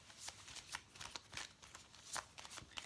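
Oracle cards for lovers are shuffled and drawn, giving a quick run of soft, papery riffles and flicks, faint and close, with no speech.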